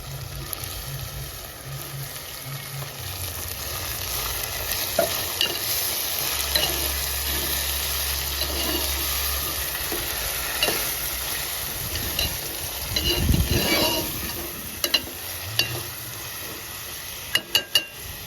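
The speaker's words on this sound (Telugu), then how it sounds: "ఇప్పుడు కడిగేసి పెట్టుకున్న దోసకాయ టమాటా వేసుకుంటుందా అండి" Washed cucumber and tomato pieces frying in a pan with ginger for a crab curry: a steady close sizzle with stirring scrapes and occasional clinks of utensil on pan, no voices over it.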